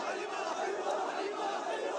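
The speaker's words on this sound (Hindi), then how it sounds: "प्रदर्शनकारियों की भारी भीड़ सड़कों पर उतर आई और नारेबाजी करने लगी।" A large crowd of protesters in Srinagar's streets chants slogans, a dense, continuous roar of many voices filling the space without pause, loud and close throughout.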